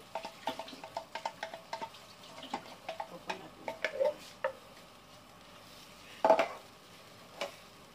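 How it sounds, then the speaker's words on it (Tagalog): Breadfruit being stirred in a cooking pot, with a run of light, fairly regular utensil knocks and scrapes against the pot, some louder clanks later on, and a brief voice in between. "Ayan, haluin natin. Haluin natin siya."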